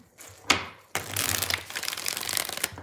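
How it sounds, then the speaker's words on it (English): Tarot cards shuffled close by: a short crisp riffle, a pause, then a longer, steady papery shuffling run with no voices. "Let's get 3 shuffles."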